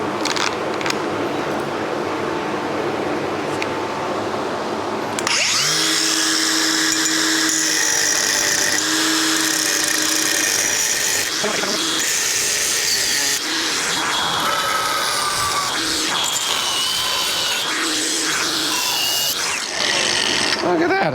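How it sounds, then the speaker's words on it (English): An angle grinder with a cutoff wheel notching aluminum for chopper pipe mounts on a Harley-Davidson XLCH: after about five seconds of quiet, a loud, continuous, high grinding whine starts and shifts in pitch as the wheel bites, running close and steady to the end. "I'm gonna have to use a cutoff wheel on aluminum, which I hate doing, but we're just gonna notch this real quick"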